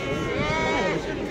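Sheep bleat at a busy outdoor livestock market before Eid al-Adha, several animals calling over one another close by while people chatter around them.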